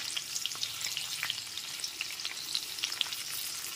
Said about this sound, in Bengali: ক্যাপসিকামের টুকরোগুলো একটু ভেজে নেব।